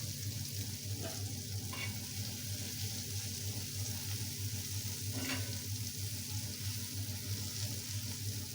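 Soybean vegetable curry sizzles on a hot tava griddle in a home kitchen, a steady, close, continuous frying hiss broken by a few faint scrapes or clinks.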